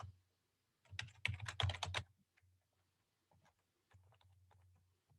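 Keys clatter in a quick burst of typing as a library card number and PIN are entered on a computer keyboard, followed by a few sparse, softer keystrokes; close and fairly quiet with no talking.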